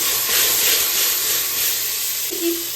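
Mustard seeds, radhuni and dried chillies tempering in hot oil for a sour dish, a loud continuous close sizzling hiss with no voices.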